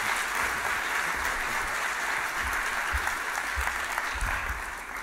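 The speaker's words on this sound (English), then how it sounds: "can I just ask everyone to give another round of applause for what was a fantastic talk" Dense, sustained applause from an audience after a data science talk at an industry event, a steady wash of many hands clapping at once that tapers slightly at the end.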